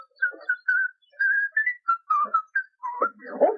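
A man whistles a lively melody in short, bright phrases with brief gaps, up close and clear, with a faint voice briefly underneath near the end.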